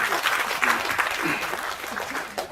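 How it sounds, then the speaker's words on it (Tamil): Audience applause at a speech event for a Tamil film, a steady wash of dense clapping from a crowd, loud and continuous throughout with no break. "அவருக்கு முதல்ல ஒரு நல்ல கைத்தட்டு கொடுக்கணும்னு நான் எப்பவுமே ஆசைப்படுவேன்"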